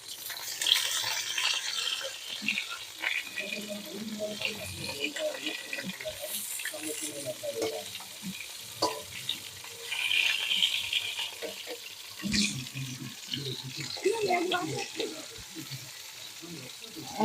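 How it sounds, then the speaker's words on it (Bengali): Pointed gourds (potol) frying a few at a time in a pan, a soft, uneven sizzle with stirring clatter and occasional clinks, with a voice speaking over parts of it. "অল্প অল্প করে দিয়ে পটলগুলো ভেজে নিচ্ছি।"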